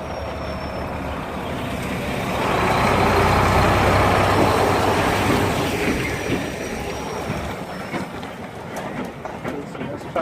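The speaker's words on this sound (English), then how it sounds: "Got a truck coming in." A truck rumbles past close by outdoors, its broad engine and road noise swelling to a peak midway and then easing off as it moves away.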